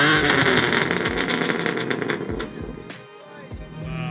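A BMW F80 M3 with a stage 2 tune revs hard, its exhaust crackling and popping in rapid loud bursts that thin out toward the end, close by and mostly without talk.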